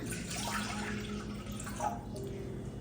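Water poured from a measuring cup into a mixing bowl while preparing a sourdough brunch recipe, a steady splashing trickle lasting a few seconds, close and fairly quiet.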